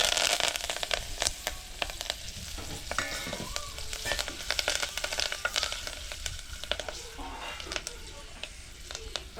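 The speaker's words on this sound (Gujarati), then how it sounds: "આપણે દાળ ઢોકળીમાં વઘાર કરી નાખીએ" Asafoetida and dried red chili sizzle in hot oil as a tempering for dal dhokli made with millet and gram flour, a steady crackling fry with sharp pops and stirring scrapes throughout, close and moderately loud.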